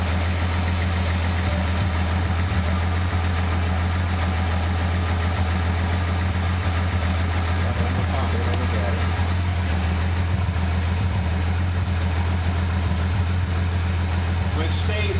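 A 1988 Nissan 300ZX turbo engine idles steadily with a constant low hum and even droning tones, close by, with no break in the sound.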